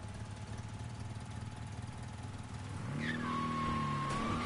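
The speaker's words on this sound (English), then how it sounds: "The engine on this sounds like a bumblebee with AIDS." Car engine in the Mafia 3 video game, a thin buzzing drone that steadies then rises in pitch as the car accelerates, with a high whining tone and a brief screech near the end.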